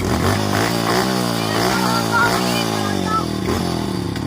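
A broken-down motorcycle engine runs roughly with a loud, uneven putter, its pitch wavering up and down as it labors and sputters, close by and continuous.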